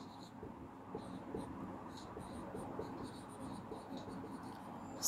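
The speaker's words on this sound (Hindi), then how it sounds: "तो उत्तर 3 का हम लोग यहाँ पे लिखेंगे" A pen writes out an answer by hand during a Sanskrit lesson, with faint, intermittent scratching strokes over a soft, hissy room background.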